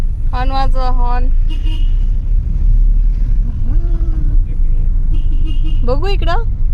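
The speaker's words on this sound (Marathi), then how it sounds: "हॉर्न वाजवा हॉर्न." A car horn sounds in short bursts from inside a moving car, twice early and once near the end, over a steady low road rumble with voices in the cabin.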